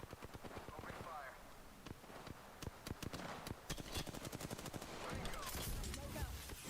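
Gunfire in the Call of Duty: Modern Warfare video game, heard as rapid sharp shots in bursts over a busy game soundscape, with other effects and a voice talking in places.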